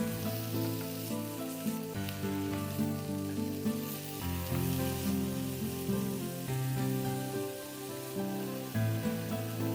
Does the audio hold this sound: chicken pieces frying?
yes